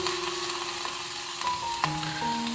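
Tofu drops into a pan of cooked chicken and sizzles, a steady close frying hiss with faint stirring and a few utensil clinks.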